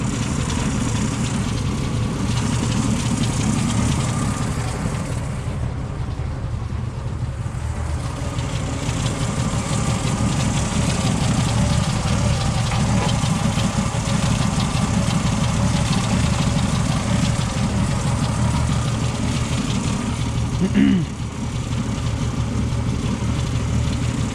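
The engine of a 1977 Ford F-150 idles cold with the choke open. Its steady low rumble runs unbroken at close range, with a slight unevenness and no voices over it.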